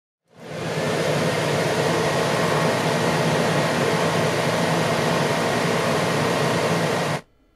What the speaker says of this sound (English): with the air conditioner set on its highest setting, I turned it on and waited for a minute for the compressor motor to kick on